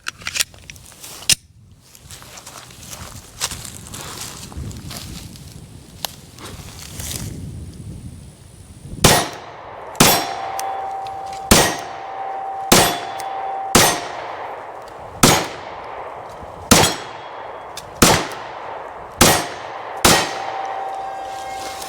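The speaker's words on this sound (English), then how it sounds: "10 more rounds with the Glock 48. Again, we're shooting a Speer Lawman 115 grain." Ten loud, evenly paced shots from a Glock 48 pistol firing Speer Lawman 115 grain rounds, each with a metallic ring, following a stretch of rough background noise.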